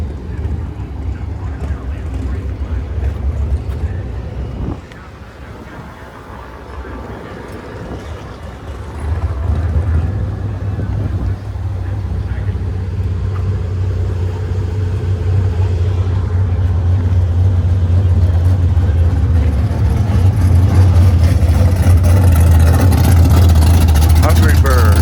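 A Pontiac GTO drag car idles and rumbles in a parade of vintage drag cars at the NHRA U.S. Nationals, its low engine drone building steadily and close by, with wind buffeting and people chatting nearby.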